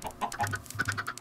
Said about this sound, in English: how is your day, chickens?